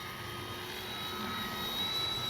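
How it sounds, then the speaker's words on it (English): A radio-controlled Arrows F4U Corsair model plane with its landing flaps down flies past, producing a continuous faint whining engine drone that swells slightly toward the end, without voices. "we're going to come by, put our landing flaps in, going to go into the wind"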